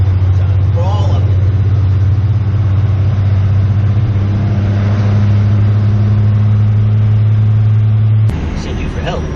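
A 1996 12-valve Cummins diesel truck hauling a 37-foot camper climbs steadily in second gear, its engine a loud, constant low drone throughout, with a brief shift in tone near the end.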